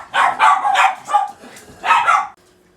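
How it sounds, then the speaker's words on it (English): A dog barks several times in quick succession indoors during a crochet tutorial, loud and close, then falls quiet. "sorry about that, my dog's barked."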